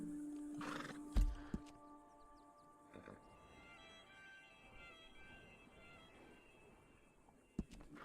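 A horse in Red Dead Online neighs and whinnies near the start, followed by hoof clip-clops and scattered footfalls against a steady low game ambience, with a couple of sharp knocks later.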